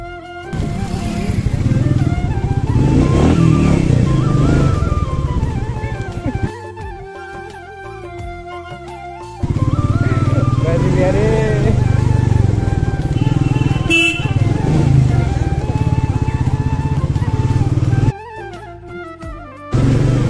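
A motorcycle engine roars loudly and revs hard for a wheelie at Deoghar College, cutting out briefly twice before surging again, close and dominant throughout.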